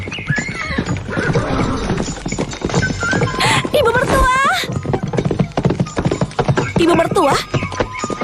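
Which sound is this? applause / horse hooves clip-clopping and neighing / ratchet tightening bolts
horse hooves clip-clopping and neighing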